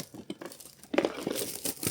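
Plastic wrapping crinkles and tears while a Pokémon trading card box is opened, close rustling that starts soft and grows into a denser crackle over two seconds.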